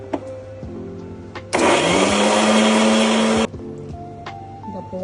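A mixer grinder whirs loudly for about two seconds as it grinds chopped radish with salt for chutney, starting and stopping abruptly amid quieter kitchen handling sounds.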